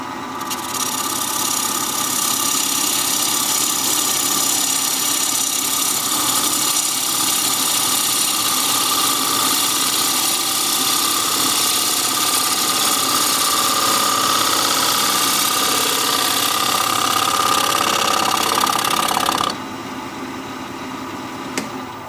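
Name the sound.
wood lathe turning a wooden bowl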